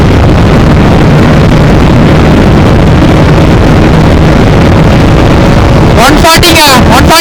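A Bajaj Pulsar NS 200 motorcycle runs flat out in sixth gear at top speed, its engine droning under heavy wind buffeting, with loud gusts hitting the microphone near the end.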